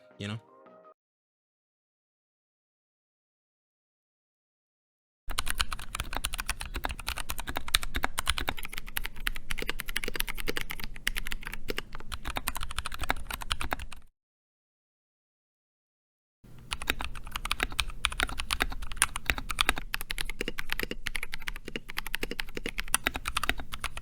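Rapid clattering keystrokes of a mechanical keyboard, close and steady, in two long bursts separated by a short silence.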